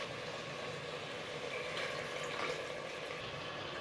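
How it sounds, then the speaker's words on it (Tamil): Water poured into freshly ground masala for a mutton chops curry in a pressure cooker: a steady, close wash of pouring and splashing liquid that continues unbroken throughout. "இதோடவே கொஞ்சம் தண்ணி சேர்த்து ஊற்றிக்கலாம்."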